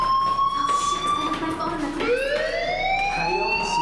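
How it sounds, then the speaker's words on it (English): School fire alarm in the video game Life Is Strange, a loud continuous electronic tone that steps up in pitch partway through, steady and close. "Hey, do you hear that fire alarm? That means you should be outside."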